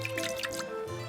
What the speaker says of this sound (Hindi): अब थोड़ा पानी डाल देते हैं।